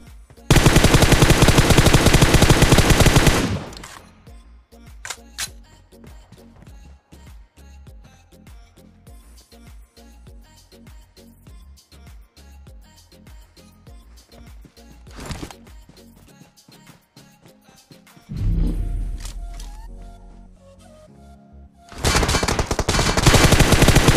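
Automatic gunfire from PUBG Mobile, fired at an enemy: loud, dense bursts open and close the stretch, with sparser, quieter shots and clicks scattered through the middle.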